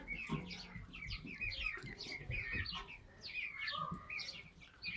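Young roosters in a pen still making high, chick-like peeping calls, faint and scattered chirps repeating at short intervals over low background noise.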